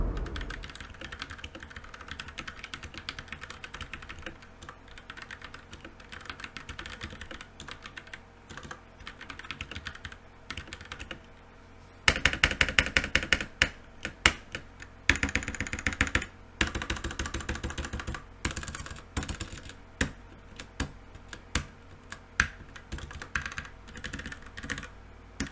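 Rapid, continuous typing on a Royal Kludge RK71 mechanical keyboard with Otemu red switches, close-up clacks and thocks in dense bursts, growing louder and more forceful midway with heavier key and spacebar strikes.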